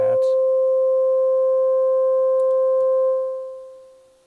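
A steady, pure sine tone from a VCV Rack sine oscillator module holds one pitch for several seconds, then fades out smoothly.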